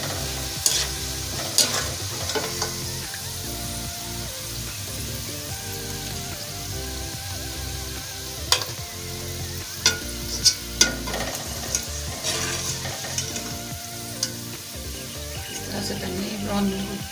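Browned onions frying in a karahi, stirred with a ladle: a continuous crackling sizzle with frequent sharp metal scrapes and knocks against the pan, with a voice talking over it now and then.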